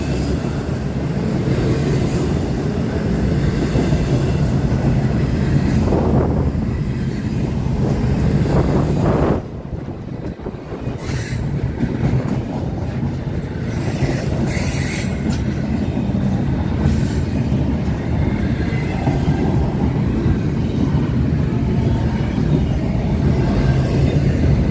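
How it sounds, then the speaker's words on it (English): A very long freight train rolls past on a cold evening in the Atlanta suburbs of Henry County, Georgia, a steady close rumble of rail cars and wheels lasting throughout, with gusts of wind buffeting the microphone. "I'll repeat it after the train goes by again"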